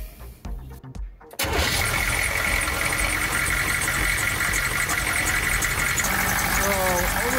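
A Humvee engine cranks and catches partway through a coolant flush, then settles into a loud, steady idle close by, with someone speaking briefly before it fires.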